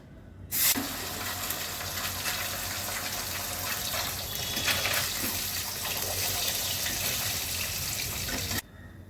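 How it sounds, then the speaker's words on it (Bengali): Rohu fish pieces fry in hot oil for a Bengali fish curry, a steady loud sizzle running unbroken for about eight seconds before cutting off abruptly. "বাকি মাছগুলো ভেজে নিচ্ছি।"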